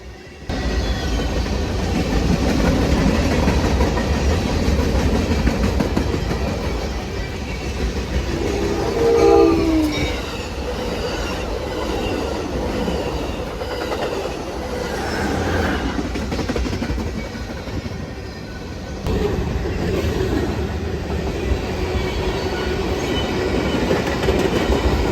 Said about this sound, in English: Next up would be Amtrak 336, led by the Veterans Unit 9221.